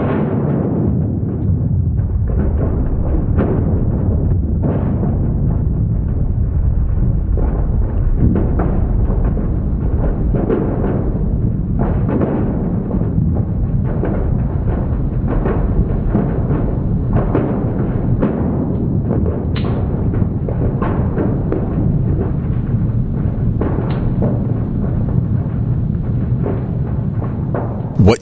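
Sped-up seismic data from the magnitude 9.0 earthquake of March 11, 2011, turned into sound: a continuous loud low rumble thick with crackling pops and thuds from countless aftershocks, sustained for nearly half a minute.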